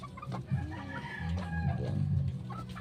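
A fighting rooster clucks and gives short throaty calls close by, a few choppy bursts in a row with faint farmyard background and no talking.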